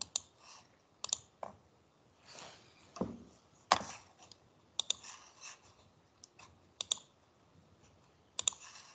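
A computer mouse clicks sharply a number of times at an irregular pace, close and fairly loud over a quiet background, with no talking.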